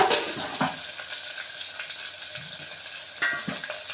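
Garlic sautéing in oil in a pan for fenugreek kulambu, a continuous close sizzle with a few soft stirring scrapes and clinks.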